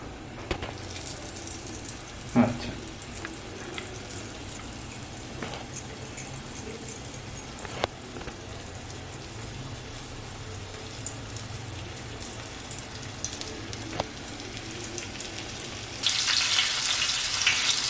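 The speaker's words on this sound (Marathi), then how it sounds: "तर आता हे असं फ्राय करूया" Batter-coated squid pieces fry in a pan on a low flame, giving a soft, continuous sizzle and crackle with scattered pops, followed by a louder hiss burst near the end.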